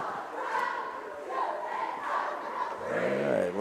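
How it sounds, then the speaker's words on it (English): A student section at a high school boys basketball game cheers for the offense in a gym, a loud roaring crowd with rising chants and shouts that swell toward the end. "right now they're cheering for the offense"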